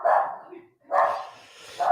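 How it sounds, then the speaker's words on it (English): A dog barks twice in short bursts a moment apart, with a third bark starting at the end, fairly close and clear over a quiet room. "Oh, show us the dog, Bono."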